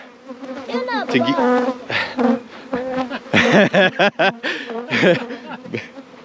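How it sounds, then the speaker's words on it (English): Bees buzz close and loud, many wings droning and swelling in overlapping passes that rise and fall unevenly, with no talking. "They're bees."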